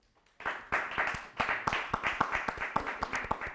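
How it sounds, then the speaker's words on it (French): A small group claps in brisk applause, the rapid uneven claps close by and lasting a few seconds. "on applaudit pour tous les débatteurs"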